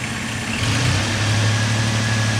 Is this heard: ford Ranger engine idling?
yes